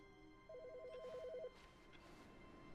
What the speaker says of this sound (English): Hey, it's a phone ringing.